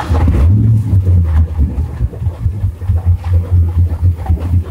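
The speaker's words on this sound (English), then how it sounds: "So here is how it sounds when you turn on the engines on the 1212 Ghost." Twin engines of a Frauscher 1212 Ghost boat start up and settle into a loud, steady low rumble that swells and dips slightly, with some wind noise and no talking.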